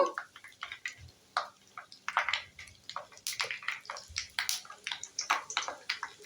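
Peanuts fry in oil in a pan for a flattened-rice (avalakki) snack, giving a quiet, continuous crackling sizzle with scattered pops and spits.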